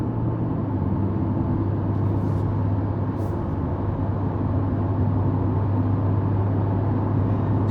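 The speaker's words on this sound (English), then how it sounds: "you notice there's a loud vehicle next to me" Inside a 2023 Honda CR-V Hybrid on the road, a steady low engine drone from a loud vehicle alongside hums continuously under cabin road noise, muffled and constant.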